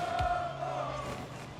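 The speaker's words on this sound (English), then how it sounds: "the crowd erupts in a chant of Turbo" Esports arena crowd at a Rocket League grand final, chanting "Turbo" in one loud, sustained roar of massed voices that fills the whole stretch, dense and echoing without a break.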